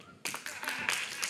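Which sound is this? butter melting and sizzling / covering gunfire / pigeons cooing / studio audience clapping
studio audience clapping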